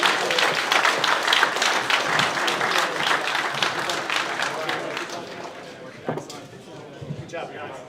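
Hackathon audience applauding the teams, dense loud clapping that thins and fades over the last few seconds, with scattered voices talking underneath.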